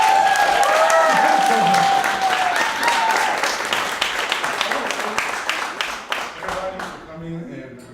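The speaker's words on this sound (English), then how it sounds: "Can you get everyone a round of applause" Audience applause at a Lush live-streamed event, a dense wash of many hands clapping loud and steady before thinning and fading out near the end, with a voice briefly audible over it early on.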